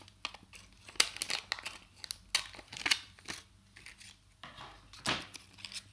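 Scissors cutting the corner off packaging for a junk journal cover, giving close, quiet, irregular snips mixed with crinkling of the material.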